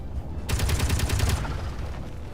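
Rapid automatic gunfire in the space-building game Space Engineers sounds as a dense burst of about a second, close and sharp, followed by a low lingering rumble, with no speech.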